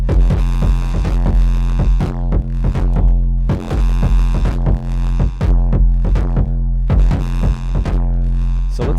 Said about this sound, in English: that's a lot of the craziness of this effect is doing the amplitude modulation combined with the tube distortion